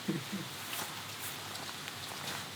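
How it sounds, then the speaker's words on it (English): Steady rain falls at a deck building site, a soft continuous hiss at moderate to faint level. A few low knocks come near the start. "waiting for this rain to blow over"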